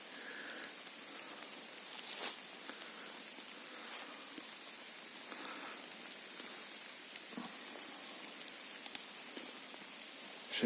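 Heavy rain falls steadily in a forest, a dense hiss of drops pattering on leaves and ground, with occasional louder drips standing out.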